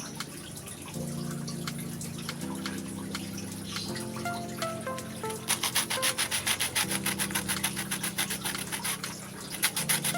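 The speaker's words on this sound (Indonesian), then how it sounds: "Pita pralonnya akan kita gergaji dengan ukuran berikut." A hand saw cuts through PVC pipe for a DIY guitar stand, its rhythmic rasping strokes speeding up toward the end over steady background music.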